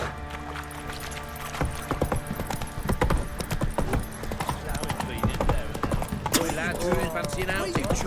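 Horse hooves galloping in the video game The Witcher 3, a fast, rhythmic clip-clop that grows busier and louder as the ride speeds up, with someone talking over it and game sounds mixed in.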